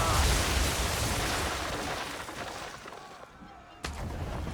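Ship cannons boom across a naval battle in Assassin's Creed 3, a heavy rolling blast filling the start and slowly fading, then a second sharp report bursts out near the end.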